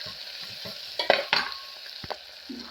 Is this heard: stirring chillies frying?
yes